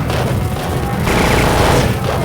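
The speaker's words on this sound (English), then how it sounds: "The gunfire is just so terrible." Heavy gunfire crackles and booms through a Metal Gear Solid firefight, a dense, loud barrage of overlapping shots and impacts with no voices over it.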